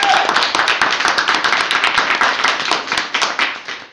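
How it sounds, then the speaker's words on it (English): A crowd applauds performers at an evening show, a close, loud burst of many hands clapping in quick, dense rhythm that fades slightly toward the end. "Give them a round of applause."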